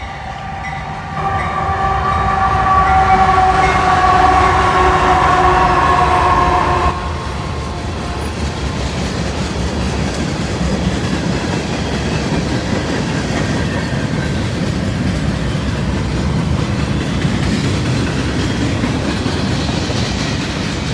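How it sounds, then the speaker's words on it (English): A CSX mixed manifest freight train passes close by, a loud horn blast fading into a long steady rumble of railcars rolling and clacking over the rails. "right off the bat, we got a CSX train coming"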